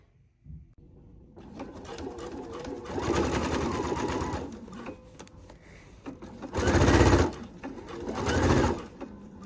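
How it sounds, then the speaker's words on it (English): A sewing machine stitches a 5/8-inch collar seam in close bursts of rapid mechanical whirring, two longer runs and then two short, louder spurts, with quiet pauses between. "So I will sew from the large dot to the other large dot at 5/8 inch"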